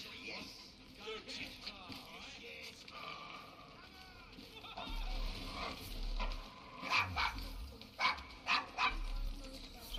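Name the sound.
dog barking in the video game Assassin's Creed Syndicate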